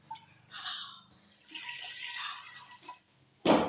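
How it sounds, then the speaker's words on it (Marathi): Water runs and splashes into a pressure cooker holding potatoes, a faint, intermittent pouring with short gurgling bursts and a brief louder splash at the end. "आपण आता ह्याच्यामध्ये पाणी टाकून घेऊयात. बटाटे शिजतील एवढं आपण असं पाणी टाकूयात कुकरमध्ये."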